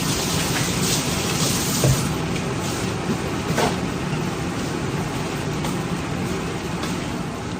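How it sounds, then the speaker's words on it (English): A tap runs steadily as someone rinses their hands, giving a dense, continuous splashing rush at an even level from start to finish, with a few faint knocks underneath. "I gotta rinse my hands"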